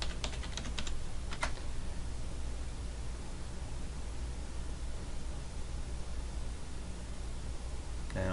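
A few quick keystrokes on a computer keyboard, entering a username and password at a Linux Mint login, click faintly at the start, followed by a long stretch of low steady hiss.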